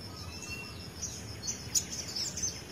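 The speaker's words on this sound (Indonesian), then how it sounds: "di atas sana ada burung sogo entong, teman-teman." A sogok ontong bird calls from high overhead, faint high chirps repeating irregularly against a quiet outdoor background.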